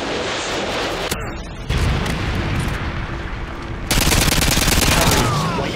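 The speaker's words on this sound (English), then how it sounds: "Predator missile inbound." A predator missile strike and gunfire in a video game: dense, loud crackling bursts of shots and blasts that shift in intensity, ending in a sustained rapid rattle.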